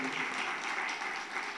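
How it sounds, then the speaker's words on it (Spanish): An audience at a live music show in San Vicente claps for an honoured guest, a fairly faint, continuous patter of applause with no voices over it. "se merece un aplauso de todos ustedes"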